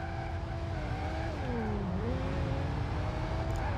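A BMW M5 E60 in BeamNG Drive pulls away, its engine note loud and steady, pitch dipping then climbing again as it accelerates, with a faint tire squeal near the end.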